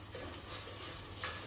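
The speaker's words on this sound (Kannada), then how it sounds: "ಮಸಾಲವನ್ನು ಚೆನ್ನಾಗಿ ಎಣ್ಣೆಯಲ್ಲಿ ಫ್ರೈ ಮಾಡಬೇಕು" Masala fries in oil over a low flame for crab urval, cooked village style. It gives a faint, soft sizzle with a light stirring scrape near the end, and there is no speech.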